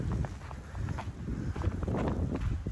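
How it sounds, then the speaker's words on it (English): Wind gusts on the Appalachian Trail during an April snowstorm, a loud low rumble buffeting the microphone with crunching footstep-like thuds underneath, continuous for the whole stretch. "wind has definitely picked up"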